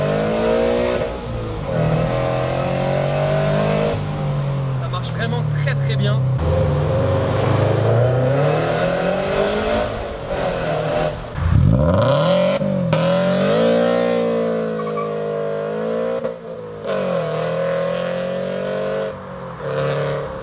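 A car engine accelerates and revs hard, its pitch sweeping up and down through several surges, with someone speaking French over the engine noise partway through.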